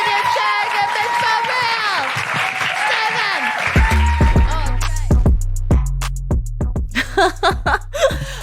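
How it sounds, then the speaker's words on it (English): Audience at a comedy night applauding the acts, with laughter and crowd chatter at first, then a burst of close, loud clapping that thins into scattered claps. "A round of applause for the acts you've seen tonight."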